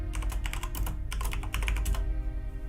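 Quick bursts of keystrokes on a computer keyboard while entering spreadsheet labels, a close, rapid run of clicks that pauses briefly midway and stops near the end, heard alone without talk.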